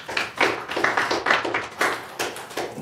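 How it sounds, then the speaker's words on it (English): Audience clapping at a mutual housing meeting, a short burst of scattered hand claps that swells and fades in uneven waves over about three seconds, moderately close with no talk over it. "Applause really isn't necessary."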